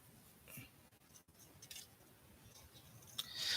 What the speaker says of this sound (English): So it's scissors gonna cut the paper.